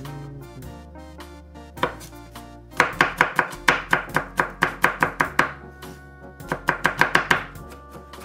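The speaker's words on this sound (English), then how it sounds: "Now you want to ground this guy, so I guess crushing it is the first thing" Knife chopping and crushing garlic on a cutting board, a brisk series of sharp close knocks in quick uneven bursts, with short pauses between runs and no talking.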